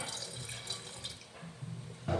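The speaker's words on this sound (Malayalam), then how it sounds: "നികക്ക വെള്ളം ചേർത്ത് കൊടുക്കാം" A steady stream of water runs and splashes into a container of gooseberries, close and continuous, with a brief louder gush at the end.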